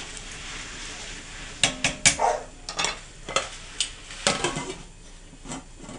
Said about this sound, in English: Give that a stir so the rice doesn't get all stuck together